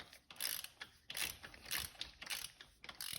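A torque wrench ratchets in short, quick clicking bursts while tightening, fairly faint but close, repeating about half a dozen times with brief gaps and no speech.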